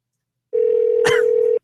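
A single electronic phone ring tone sounds for about a second, a clean steady tone from an unanswered call on a radio morning show, with a brief click midway.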